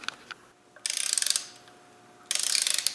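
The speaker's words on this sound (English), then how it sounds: "I'll go and get a socket so we can torque these down." Ratcheting socket wrench tightening the clutch bolts on a Land Rover 200Tdi, two close bursts of rapid clicking separated by a brief pause, no talking.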